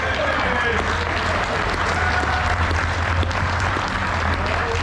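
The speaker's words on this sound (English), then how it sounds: "How about a round of applause?" An audience at a Corvette presentation during the Rolex 24 at Daytona applauds steadily, dense clapping with crowd noise and a low engine-like rumble beneath, while a voice or two carries faintly through.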